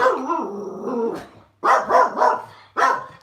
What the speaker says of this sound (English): it might be a dog out there